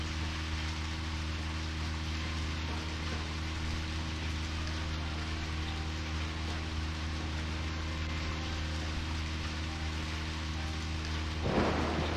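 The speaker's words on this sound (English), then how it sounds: "I would love a rainstorm like this." Rainstorm with thunder in the video game Deadly Premonition Origins: a dense, steady roar of heavy rain with a deep low rumble underneath, continuous throughout, and a brief louder burst near the end.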